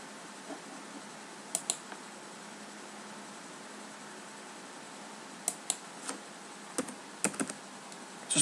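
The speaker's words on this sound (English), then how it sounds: "I get the hang of this typing." Scattered keystrokes on a computer keyboard, a few isolated taps and short clusters of clicks over steady room hum, fairly close, no talking.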